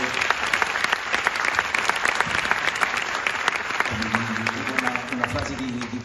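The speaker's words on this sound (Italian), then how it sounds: "forse un applauso sicuramente." An audience claps warmly at a cast event for an Italian TV series, a dense burst of applause with voices talking over it toward the end.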